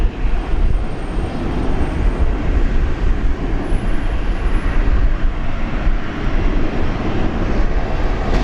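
A jet airliner roars loudly and steadily during its takeoff roll at Brisbane International Airport, a broad, continuous engine rumble heard from a distance with no talking.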